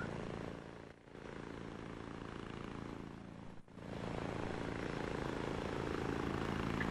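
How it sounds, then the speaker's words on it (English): A steady, loud rotor and engine drone from a helicopter landing close by in the video game ARMA 3, with two brief dips, holding a constant broadband roar throughout. "the helicopter has arrived"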